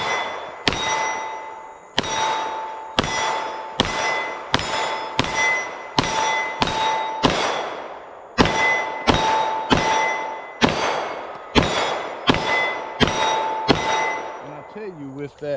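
Canik Rival SFx Dark pistol fired at steel targets: about sixteen sharp shots in a quick, fairly even string, each with a ringing metallic clang, loud and close, with no talk.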